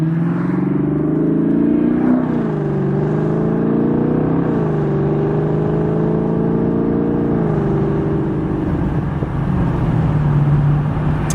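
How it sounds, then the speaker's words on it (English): A steady Lexus LS 430 exhaust drones loudly throughout, its low tone rising and falling slightly, with a faint higher squeak, which returns in cold weather, barely audible over the engine. "our exhaust note surpasses the squeak, just barely"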